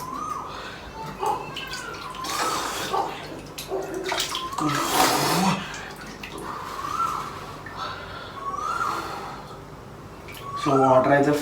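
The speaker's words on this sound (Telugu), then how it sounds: "సో వాటర్ అయితే ఫుల్ పడుతున్నాయి మన కింద." Water pours from a bottle and splashes down in several loud bursts with pauses between them, while a voice talks throughout.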